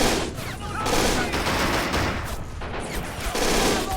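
Dense in-game gunfire in Men of War: Assault Squad 2 during a Stalingrad battle against Soviets, with rapid overlapping rifle and machine-gun bursts crackling continuously, loud and close.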